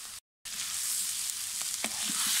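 Lamb liver frying in a saj pan gives a loud, steady broadband sizzle that drops out for a moment near the start, then carries on with a few faint stirring knocks.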